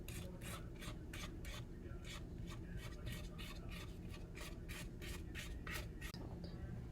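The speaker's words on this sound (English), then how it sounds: "Now it's time to scrape down the sides of the bowl, so find a spatula." Spatula scraping down the sides of a mixing bowl of coffee cake batter, a steady series of quick rhythmic rasping strokes, soft and close with no talk.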